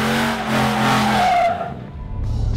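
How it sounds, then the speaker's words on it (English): Ford F-150 pickup fitted with a VMP Odin supercharger doing a burnout, loud roaring engine with squealing, skidding tires that fade out, followed by a rising engine rev. "I'm going to do burnouts in their truck."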